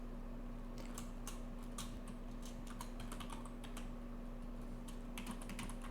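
Quick, light keystrokes patter irregularly on a computer keyboard as C++ code is typed, with a faint steady fan hum underneath and no talking.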